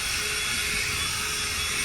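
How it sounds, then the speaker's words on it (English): Drill brush spinning on a suede car seat during interior cleaning, a continuous high-pitched motor whine with a scrubbing hiss, steady and close throughout with no talking. "and a drill brush."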